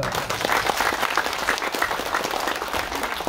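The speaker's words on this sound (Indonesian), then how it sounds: "Tepuk tangan dong." An audience at an outdoor community event in Indramayu breaks into applause, a dense, fairly steady clapping from a crowd lasting a few seconds, with a faint murmur beneath it.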